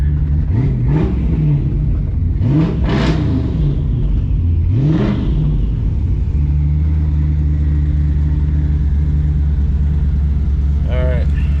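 A Ford SVT Cobra on a new exhaust revs and accelerates in several rising, falling surges, then settles into a steady, rumbling cruise, with a brief high whine near the end; a voice talks over it at times.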